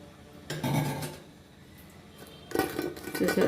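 Urad dal vada batter is mixed vigorously in a bowl, producing two bursts of wet slapping and scraping with faint utensil clinks, separated by a quieter pause.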